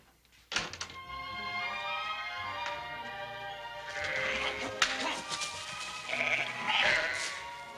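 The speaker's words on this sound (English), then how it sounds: "I never knew a couple dozen sheep could be so ornery." Several sheep bleat repeatedly, close and overlapping, with a thunk and tapping sounds early on and faint voices mixed in.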